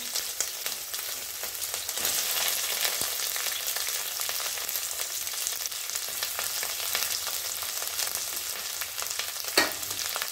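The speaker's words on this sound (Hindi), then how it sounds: "ये ऑयल गर्म हो चुका है अब इसमें मैं राई डालूँगी और ये ऐसे ऐसे स्लाइस अनियन है जो मैं डाल दूँगी" Mustard seeds and sliced onions fry in hot oil for a South Indian sambhar, giving a steady, bright sizzle and crackle throughout with an occasional stir or clink near the end.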